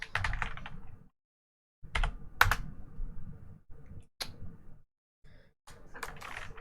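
Someone types a command on a computer keyboard in a few quick bursts of close, crisp key clicks separated by short pauses, with no talking.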